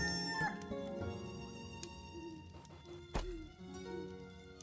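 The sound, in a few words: invisible chickens clucking in the Stonehearth video game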